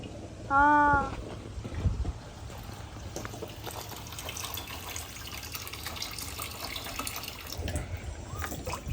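Water runs and trickles steadily from a pipe, a soft continuous splashing with a short tonal burst near the start.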